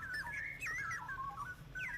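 A young straw-headed bulbul, or cucak rowo, caught wild from the forest, calls in a series of bright, warbling whistled phrases that rise and dip, fairly close and clear over a quiet background.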